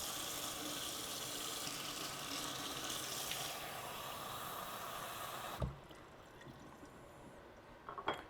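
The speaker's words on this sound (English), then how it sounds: "I like to run the water until it's the hottest possible, fill it up" Hot tap water runs steadily into a thick mug for several seconds, a loud broadband rushing that cuts off abruptly, followed by a quiet thunk and faint clinks.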